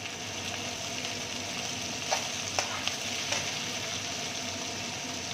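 Snake gourd pieces sizzle steadily in hot oil tempered with panch phoron, a dense, even frying hiss with a few soft clicks of stirring, close and alone.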